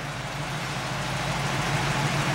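A 1967 Oldsmobile Cutlass engine runs steadily inside a building as the car creeps forward, a low, even rumble with a constant hum and no clunks or talking.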